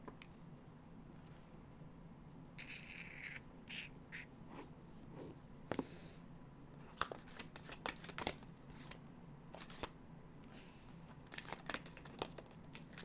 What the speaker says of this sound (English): I'm shuffling it again because something was stuck.